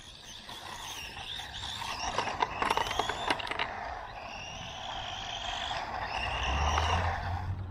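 A Bonzai Jubatus 1/14 scale RC off-road buggy drives nearby with a whining electric motor that rises and falls. Brief rattling clicks from the chassis come in around the middle, over steady outdoor background noise.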